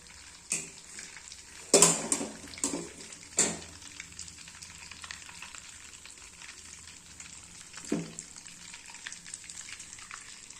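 Curry leaves fry in ghee simmering on low heat, a soft continuous sizzle and bubbling with a few sharp crackles and clinks of utensils against the pan, close by and fairly quiet.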